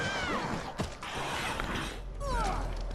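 A door is locked in the game Resident Evil Resistance: creaking mechanical clunks and latch sounds with a metallic ratcheting texture, fairly close, over a low game ambience.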